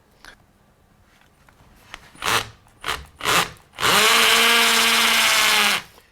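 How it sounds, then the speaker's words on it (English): A few short bursts of a hammer drill, then a loud, steady stretch of drilling grinding into masonry, close up. "Remember to set your drill to the hammer function, since this is going to be masonry drilling."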